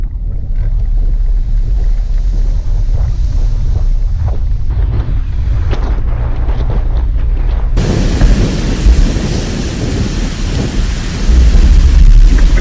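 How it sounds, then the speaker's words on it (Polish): Heavy, roaring wind buffets the microphone with deep rumbling gusts, growing louder and harsher partway through, with no voices. "Wiatr."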